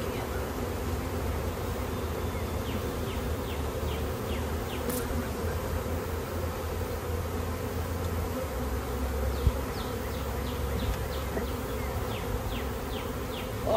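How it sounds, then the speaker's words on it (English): A swarm of honey bees buzzes around a hive, a dense continuous drone, fairly faint and steady, with no talk over it. "Lots of bees."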